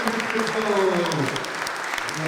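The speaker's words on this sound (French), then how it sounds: "Donc je voudrais qu'on lui fasse un tonnerre d'applaudissements." A public debate audience on secularism in France claps in sustained applause, fairly loud and close, with a voice faintly audible underneath.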